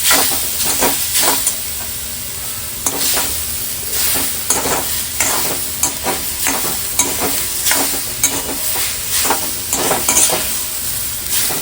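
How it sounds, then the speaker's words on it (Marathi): Garlic and ginger roasting in a pan give off a steady sizzle and hiss, broken by repeated scraping stir strokes, close and moderately loud. "लसूण लसूण आणि आलं आता भाजून घेऊया"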